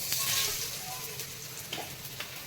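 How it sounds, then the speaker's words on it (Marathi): A tikki patty for a burger fries in a pan over high heat, a soft steady sizzle with light crackles and occasional spits, quiet and close. "इथं बघू शकता आपण टिक्की फ्राय करतोय"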